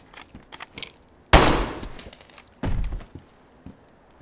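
Two loud, close gunshots fire about a second apart in the survival game DayZ, each with a heavy boom and a short decaying tail, over quiet background game ambience.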